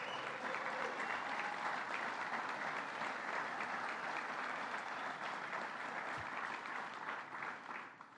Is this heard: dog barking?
no